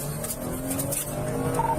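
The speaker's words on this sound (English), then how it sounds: "Damn, he peeled out." A car's tires squeal and skid as it peels out during a police chase, a sustained tonal screech over road noise heard at some distance, with no talk over it.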